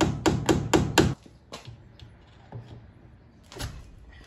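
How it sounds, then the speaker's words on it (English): A hammer drives a nail through wood to finish a drilled hole, five sharp, loud blows in quick succession followed by a few quieter, scattered knocks and one more strike near the end. "I managed to find a nail with almost the same diameter as the drill bit and hammered that through the rest of the way"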